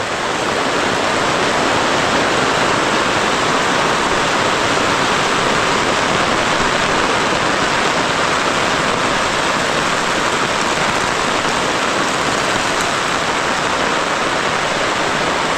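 Torrential rain pours onto a tent pitched on abandoned coal mine land, a dense, steady, loud roar of drumming with no letup and no voices.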